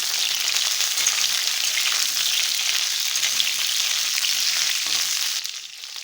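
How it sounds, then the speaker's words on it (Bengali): Potatoes and pointed gourd fry in a pan with a steady, close sizzle and faint stirring, the hiss easing slightly at the very end. "কেটে রাখা পটলগুলো এবারে দিয়ে দিচ্ছি"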